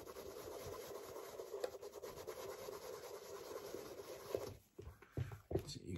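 A cleaning pad rubs wax finish off the toe box of a custom reverse Jordan Travis Scott 1 High sneaker, giving a steady, close scrubbing hiss that breaks into short, uneven strokes near the end.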